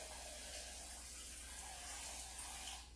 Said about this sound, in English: Guys, I'm changing the water.